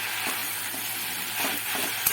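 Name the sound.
stirring water spinach greens in a pan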